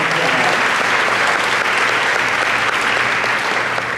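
Audience applause at a dairy festival pageant in a school auditorium, greeting the evening's piano accompanist: a steady, dense wash of clapping from a large crowd that holds at an even level for the whole span, with no voices over it.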